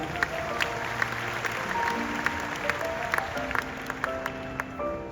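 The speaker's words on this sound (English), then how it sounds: "Give yourself a round of applause again." A seminar audience gives a round of applause, a moderate steady patter of many hands with a few sharper individual claps standing out, accompanied by faint sustained tones and low background murmur.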